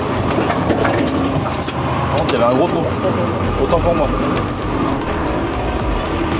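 A big tractor with a mechanical gearbox runs with a rough, low engine rumble throughout, nearby and steady, while someone talks over it.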